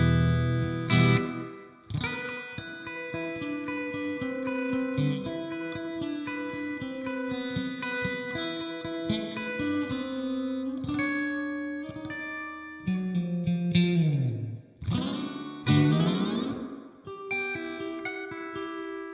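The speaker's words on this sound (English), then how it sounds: "I can turn it all the way up so you can hear how reverby it really gets" An electric guitar plays through a Blackstar St. James 50W EL34 tube amp with the reverb turned fully up. Picked notes and chords ring out in a long, wet wash, with a few quick strums and slides.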